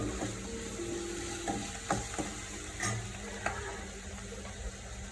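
Food sizzles steadily in a pan after salt goes in, with occasional stirring clicks and scrapes of a spoon against the metal, close and even throughout.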